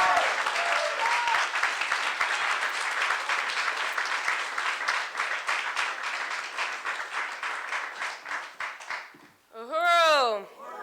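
An audience at a political congress plenary claps in steady, sustained applause for the awardees, loud and full for several seconds. It tapers off, and then a single voice starts speaking.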